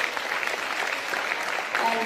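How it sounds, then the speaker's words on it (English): Big round of applause from a school audience for a student at a dance competition event, a brief, steady wash of many hands clapping with faint voices underneath. "Can you give him a big round of applause,"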